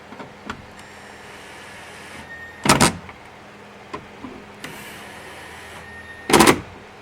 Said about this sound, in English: And we take our 1/4-inch drive impact.